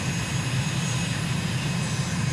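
Steady, droning engine of a light aircraft flying a downwind leg at about 1,000 feet during a landing approach over the UAE, a continuous even hum held loud and close throughout with no talk.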